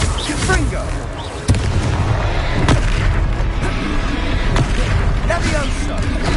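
Confringo fire spell blasts in the video game Hogwarts Legacy, loud booming bursts over a dense, continuous game soundscape, with sharp hits recurring every second or so and speech present throughout.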